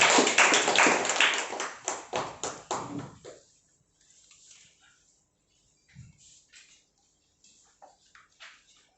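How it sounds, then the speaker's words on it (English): Applause from the audience at a speakers' club meeting: a quick burst of fairly close hand clapping that fades within about three seconds, followed by faint, scattered sounds in a quiet room. "A big round of applause for us."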